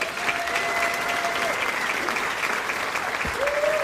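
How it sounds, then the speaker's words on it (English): A roast audience breaks into a steady round of applause that fills the room at a constant loud level, with a couple of brief whistles or cheers rising above the clapping. "Seriously, nice round of applause for what he does."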